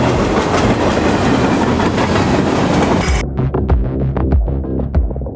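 A Barddhaman local train runs through Chinsurah station without stopping. A loud, steady rumble and throb of the passing train dominates, then drops to rhythmic wheel clatter over the rail joints after about three seconds.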